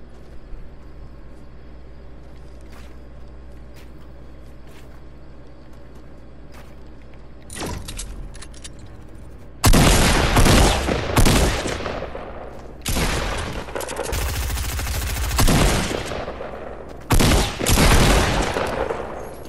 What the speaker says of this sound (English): How has he not been hit by any of these sniper shots but one?